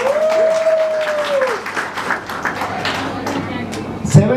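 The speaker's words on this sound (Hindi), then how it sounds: "7 जनरेशन की बात किया तो बहुत कम तालियां बजी" Scattered, fairly thin clapping from an audience at a live business speech in Ahmedabad, a short tonal whistle or feedback tone over the first second and a half, then sparse claps and a thump near the end.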